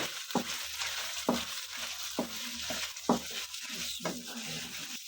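Carrots and capsicum being cooked for chicken macaroni are stirred in a pan, giving soft sizzling under a series of quiet, regular scraping strokes.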